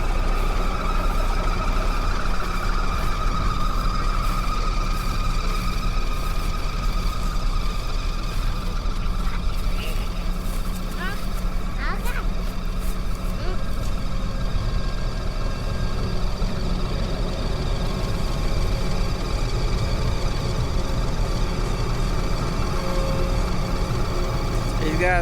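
Tractor with a box blade driving into a field, a steady low engine drone heard at moderate distance throughout while someone talks over it.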